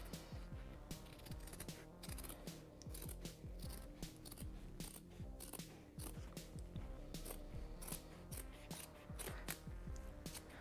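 A heated seat pad for a Honda Grom motorcycle is trimmed to size with steady, rhythmic snipping and clicking close by, quiet and with no talk.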